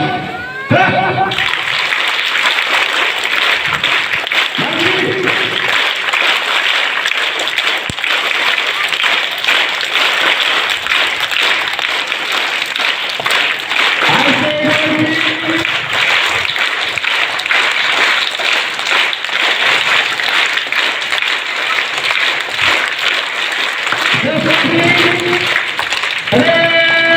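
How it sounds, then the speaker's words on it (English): Students at a school assembly in Nepal clap in unison in a rhythmic pattern, bursts of patterned claps at the start, middle and end over a continuous roar of loud, crowded clapping. "At the count of 3, everyone should clap"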